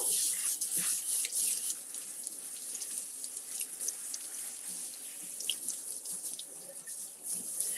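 Lettuce leaves washed under a running kitchen tap, a steady hissing stream with small splashes and the rustle of leaves, continuous and close with no talking.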